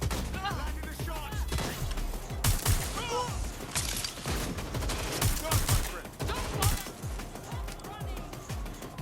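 Gunfire in Watch Dogs Legion during a fight to destroy temperature regulators: repeated sharp shots and rapid bursts crackle over about nine seconds, loud and close, with a voice talking over them.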